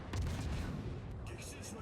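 Warship guns fire in World of Warships, booming shots rolling over a dense, rumbling battle background for about two seconds.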